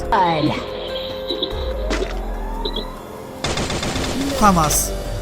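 An automatic pistol, cyclic rate of 1100 to 1200 rounds per minute, fires a rapid burst late in the sequence, a dense loud rattle following a stretch of chirping, sweeping background sounds.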